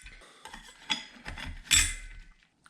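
Metal parts of a TH350 automatic transmission clink and rattle as a washer and clutch plates are handled during a rebuild, a few close, sharp metallic knocks and a louder clatter near the end.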